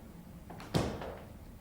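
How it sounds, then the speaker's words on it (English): An indoor door shuts once with a single sharp thud and a brief rattle, close by and alone with no voices. "shut the door"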